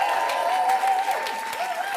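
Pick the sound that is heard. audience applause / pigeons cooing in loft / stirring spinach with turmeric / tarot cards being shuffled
audience applause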